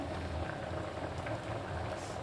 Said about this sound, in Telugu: చూడండి ఎలా బాయిల్ అయిందో